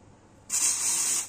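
A cleaner spray hits the dirty oil pump of a Yamaha X Ride scooter: a single close, steady hiss starts abruptly and lasts under a second, alone.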